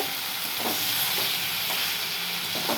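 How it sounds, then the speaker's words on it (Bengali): Eggs and tomato sautéing in a pan give a steady broadband sizzle, with a few soft stirring scrapes at a slow, irregular pace, close and continuous, with no voices. "এইবারে ডিম দিয়ে একটু কষাবো"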